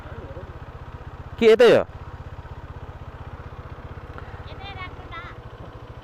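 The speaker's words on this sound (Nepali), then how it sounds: "बाइक त अझै माथि जान्छ नि होइन" A motorcycle engine runs steadily with a low, even throb on a hill road near Dupcheshor Mahadev Temple in Nuwakot, while people speak over it, including a brief louder burst of voices.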